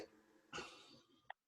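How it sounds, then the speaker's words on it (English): One short cough in a quiet room, moderately close, followed by a faint hum and a brief click near the end. "A person coughs once"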